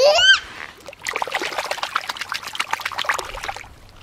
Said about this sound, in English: Let's put the walrus back in the water.